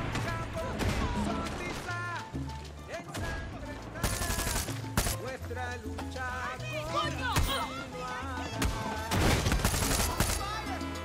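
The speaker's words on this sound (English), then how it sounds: "someone released a mortar on us" Mortar and weapon fire in Far Cry 6, sharp bursts and volleys breaking through game music and voices, with several loud impact peaks scattered over the stretch.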